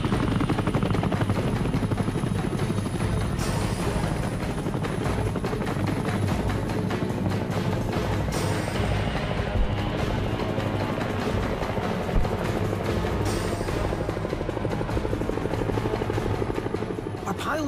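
US military helicopters in the Vietnam War thunder loudly and continuously throughout, a dense rotor and engine roar with steady pulsing beneath, overlaid by indistinct voices or radio chatter.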